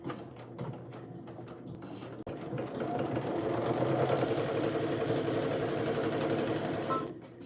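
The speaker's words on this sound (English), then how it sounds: "the machine is auto back stitching" A sewing machine runs steadily in auto back-stitch mode, with a dense mechanical whir that swells louder midway and cuts off near the end, a brief break early on.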